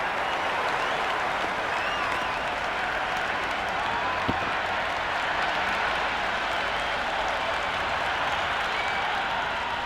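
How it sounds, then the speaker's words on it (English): A large cricket stadium crowd in a video game cheers and applauds continuously, a dense, loud roar of clapping and voices that holds steady throughout. "Will you listen to that crowd?"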